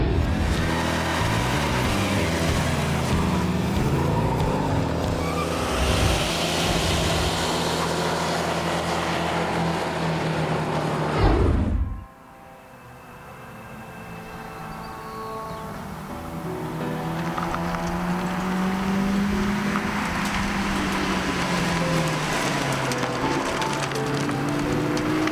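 A 2000 Ford Mustang SVT Cobra R runs loud and close, its engine note rising and falling, then cuts off abruptly midway before a quieter rumble returns and swells again, with no talking.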